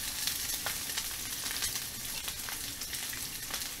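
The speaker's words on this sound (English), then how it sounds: "we're just going to spin them around in this frying pan." Pork chops sizzle in a frying pan, a steady, close hiss of fat crackling with scattered sharper pops throughout and no talking.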